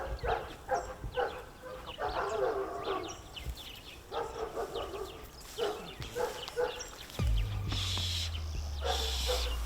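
A dog barks repeatedly in short, scattered bursts outdoors. Birds and other animal sounds mingle in, and a steady low mechanical drone takes over near the end.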